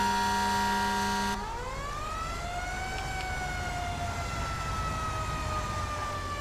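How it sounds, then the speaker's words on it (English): American fire truck siren in GTA 5 on a virtual International 4400 pumper tender, a steady tone that abruptly shifts into a rising wail that slowly sweeps up and holds, loud and alone with no talk. "The siren is on lspdfr.com. It's called American Firetruck Siren"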